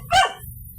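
A pet dog named Cinco lets out a single sharp, angry bark, close and loud, followed by quiet.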